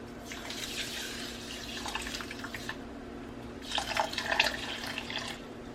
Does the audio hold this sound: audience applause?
no